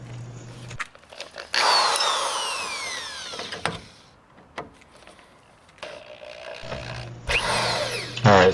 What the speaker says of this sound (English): I'm going to start drilling it out using a 7/16 drill bit